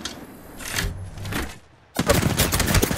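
Gunfire from the battle royale game Apex Legends crackles in rapid bursts, pauses briefly, then resumes as a loud, sustained volley of close shots.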